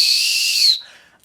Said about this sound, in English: I gotta blow the whistle on this one too.